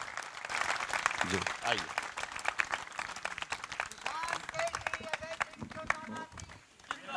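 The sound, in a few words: audience applause welcoming a guest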